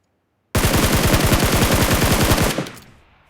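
Automatic gunfire in a shooter video game: after a moment of silence, one loud, close, unbroken burst of evenly spaced rapid shots lasts about two seconds, then cuts off and fades into a short echo.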